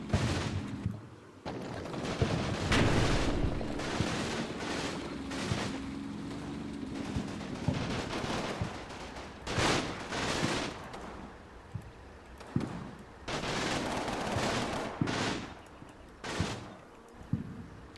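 Bursts of MG 34 machine gun fire from squads in a World War II video game battle in Italy, rapid gunfire crackling in repeated volleys amid other shots and explosions.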